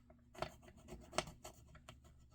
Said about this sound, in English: Have to give the tear tape the rub down it needs.